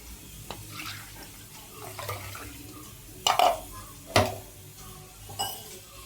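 Water poured and stirred into ground mixture for spiced buttermilk (majjige) in a home kitchen, with clinks of a spoon against a steel vessel, a few sharper knocks and a soft running trickle, close and moderately quiet.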